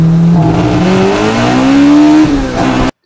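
A toy-style bus pulls up with a rising, sustained engine drone for nearly three seconds, loud and close, then cuts off abruptly into silence.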